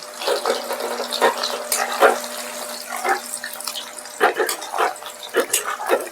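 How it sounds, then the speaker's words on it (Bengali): Chicken kabab frying crisp over a high gas flame, a close continuous sizzle with frequent sharp pops and crackles of oil. "এবার আমি এটা গ্যাসের ফ্লেমটা একদম জোর দিয়ে ভাজবো।"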